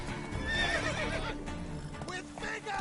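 Roach, the horse from The Witcher 3, gives a whinny amid hoofbeats and busy background game sound, with voices faintly mixed in underneath.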